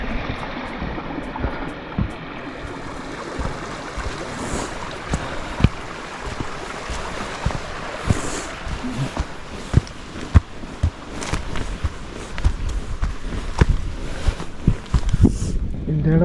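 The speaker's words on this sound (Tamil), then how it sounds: "பாதை தண்ணி போயிட்டுருக்கு, இதோட சவுண்டு தான் கேட்குது." Steady broadband rushing of a flowing stream on a path near Mwnt beach, Wales, close by and continuous, with occasional knocks and rustles on top.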